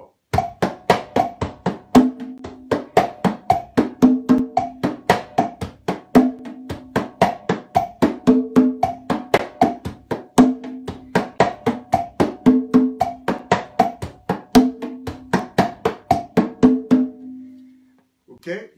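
Conga tumbao entering on the two side of the clave, steady repeating pattern of open tones and slaps on a single drum, loud and close, with no talk over it.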